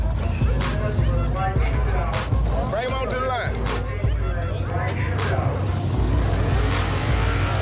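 Big-rim drag race cars launching, with loud roaring engines and revving that swell and shift as the cars pull away, blended with crowd and announcer noise at a drag strip.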